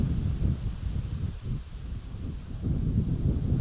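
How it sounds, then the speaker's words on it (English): Gusty outdoor wind buffets the microphone in a continuous low rumble, swelling and easing over a few seconds, close and fairly loud, with no talking. "we've got the wind blowing, and the wind is blowing the sparks back at me"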